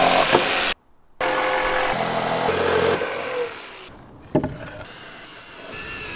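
Hand saw cutting lengthwise through a wooden plank on a platform built around a tree, in rough repeated strokes, close up, broken by short pauses.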